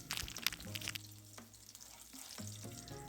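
Ready-made chicken nuggets frying in oil in a home kitchen, a steady close sizzle with a few brief clinks and rustles of cookware.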